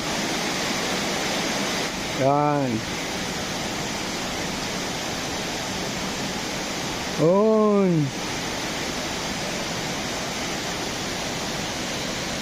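Steady rushing water from a small river flows throughout, loud and continuous, with two short spoken words breaking in briefly.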